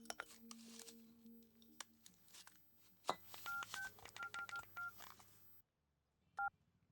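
A telephone being dialed in a Hindi-dubbed film scene: a series of distinct dial tones in quick succession after some background noise, then a pause and a final tone, fairly faint overall.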